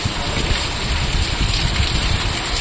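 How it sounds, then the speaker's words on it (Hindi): Heavy rainfall in a constant, close roar of water, with a faint low rumble beneath the broad hiss and no voices. "वर्षा"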